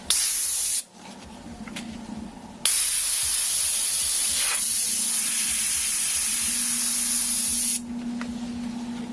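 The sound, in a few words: airbrush spraying paint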